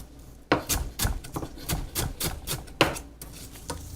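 A knife slices tomatillos on a cutting board, a close series of crisp, rapid chops with sharp board knocks, about a dozen strokes in quick succession.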